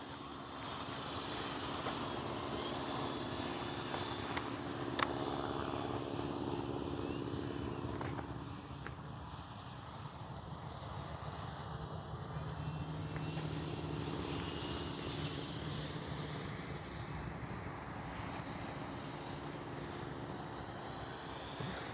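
A Flightline F4U Corsair radio-controlled model warbird drones steadily overhead, its motor hum rising and falling faintly in the distance against outdoor background noise.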